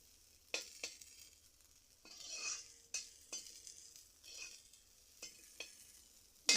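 Semolina frying in a pan for laddu, stirred with a utensil that makes crisp scrapes and taps against the metal at irregular intervals over a faint sizzle.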